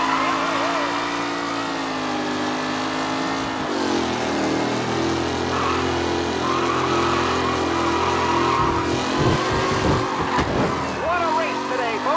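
Race car engines roar steadily in a racing event in Mafia: Definitive Edition, a loud sustained drone with shifting pitch as cars rev and change gear, while an announcer's voice talks over it.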